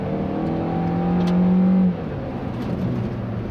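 A 2017 Hyundai Elantra Eco 1.4 turbo engine revs up to a high, steady whine, then drops sharply as the throttle lifts, settling into a lower drone.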